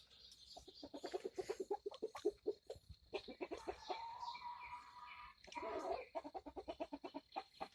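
A feisty chicken clucks in rapid, rhythmic bursts, close and fairly quiet, with a longer drawn-out squawk in the middle before the quick clucking resumes.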